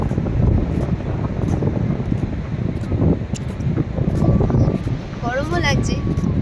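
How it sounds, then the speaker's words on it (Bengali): Strong wind blows at a beach, a loud continuous buffeting roar that surges and eases, with faint voices and a brief whistle-like sound in the background. "এখানে এত হাওয়া চলছে"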